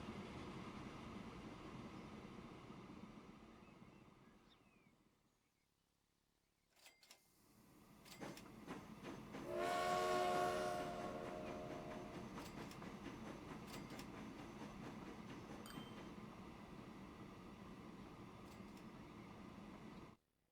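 A stone train in Transport Fever runs with a continuous rail rumble and rhythmic clickety-clack, fading to near silence, then returning with a brief squeal before rolling on steadily.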